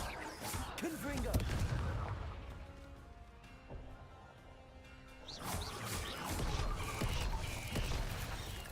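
Confringo fire-blast spells in Hogwarts Legacy combat land as loud, rumbling explosive bursts with crackling debris, a dense cluster early on, a quieter lull, then more blasts toward the end.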